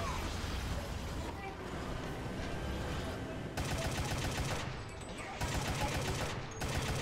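Video game gunfire, a dense, steady wash of distant rapid shots and explosions that pulses in louder bursts. A player talks over the din.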